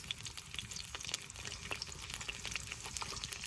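Onions and green chilies fry in oil in a wok, giving a soft, continuous sizzle scattered with small crackles and pops, heard close up without any talking.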